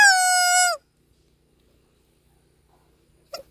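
A rubber chicken toy lets out a single loud, drawn-out squawk lasting under a second, then near silence, with a faint squeak near the end.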